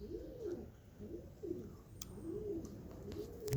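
Pigeons coo in a steady series of soft, low rounded calls repeating about every second, with brief rustling and a faint higher chirp near the end, outdoors with no talking.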